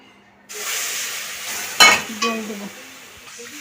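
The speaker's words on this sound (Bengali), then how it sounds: "এবার সুজিটা তৈরি করছে হালকা করে তেজপাতা দিয়ে ভেজে নিচ্ছে" Semolina sizzles with bay leaf in a pan, a steady hiss of frying broken by a few sharp clinks and scrapes of a spoon stirring against the metal.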